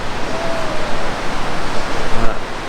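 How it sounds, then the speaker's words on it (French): Ocean waves wash onto a beach in Phang Nga, Thailand, a steady broadband roar of surf heard close and loud throughout. "Alors les vagues sont pas énormes"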